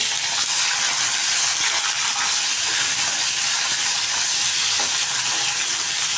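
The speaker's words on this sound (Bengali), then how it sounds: "একটু ভাজা নেবো" Steady, loud sizzling of onion and garlic frying in hot oil with fish heads, a dense crackling hiss throughout with occasional stirring scrapes.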